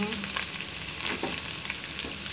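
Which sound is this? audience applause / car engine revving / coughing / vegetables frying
vegetables frying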